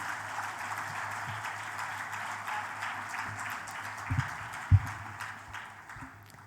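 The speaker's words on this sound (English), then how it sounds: "please give another round of applause for all our awardees for this" An award ceremony audience applauds student awardees at the NCUK Foundation event, with soft, fairly distant clapping that thins toward the end, broken by a couple of low thumps near the close.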